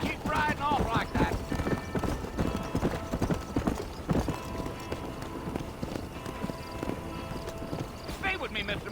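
Horse hooves clip-clopping steadily in Red Dead Redemption as a rider travels toward Fort Mercer, a continuous rhythmic trot heard under character dialogue.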